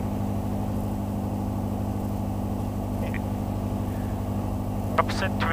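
A light aircraft piston engine drones steadily in flight over the Bavarian Forest national park, loud and unbroken throughout, with a faint brief chirp near the end.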